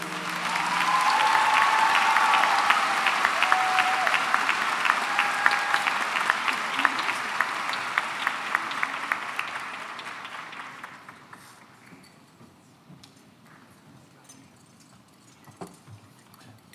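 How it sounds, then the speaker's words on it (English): A high school commencement audience claps for the choir and music department, a loud, sustained round of applause lasting about ten seconds before fading into quiet hall ambience with a few scattered claps and rustles. "can we have one more big round of applause for our choir and music department?"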